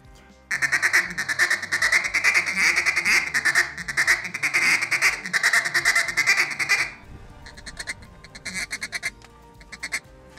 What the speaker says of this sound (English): it really sounds like a lot of ducks feeding